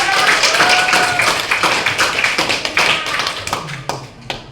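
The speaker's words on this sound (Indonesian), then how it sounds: "Tepuk tangan untuk kita semua." A classroom of students claps in dense, steady applause for several seconds, close and lively, thinning slightly toward the end.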